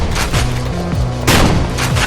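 Shotgun fire in the video game Perilous Warp: two heavy booming blasts about a second apart, loud and close, with game sounds around them.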